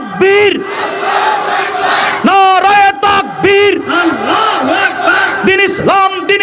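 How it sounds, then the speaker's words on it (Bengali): Large crowd at a Bangladeshi Islamic religious gathering chanting takbir, loud massed voices rising in repeated surges with short pauses between, close and powerful. "ওদের কলিজার মধ্যে আঘাত যেন হানে আজকের এই তাকবীরের ধ্বনি"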